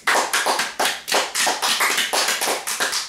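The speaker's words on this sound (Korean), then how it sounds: "하나님께 영광의 박수 드리겠습니다." A church congregation claps together in unison during a Korean sermon, with loud, sharp beats that come close and evenly spaced in a steady rhythm of about four per second.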